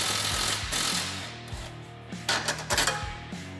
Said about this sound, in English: remove one bolt at a time from our lower A-arms